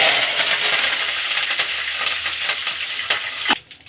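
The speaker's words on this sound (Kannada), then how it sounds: "ಈಗ ಎಣ್ಣೆ ಕಾಯ್ದಿದೆ. ಸಾಸಿವೆ ಮತ್ತು ಉದ್ದಿನಬೇಳೆ ಹಾಕ್ಕೊಳ್ಳೋಣ." Mustard seeds, urad dal and curry leaves hit hot oil and sizzle loudly in a dense, steady crackle with scattered pops, cutting off abruptly near the end.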